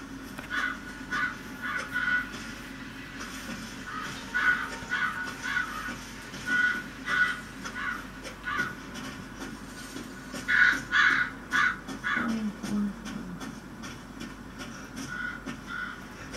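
Crows caw repeatedly in Resident Evil 7 VR, a series of harsh rhythmic calls in clusters over a low ambient rumble, moderately near with no talk.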